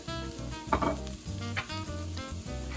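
Oil sizzling in a pan beside a cooking sauce and meat mixture, a soft continuous frying hiss with a brief louder crackle, under a steady low musical bed.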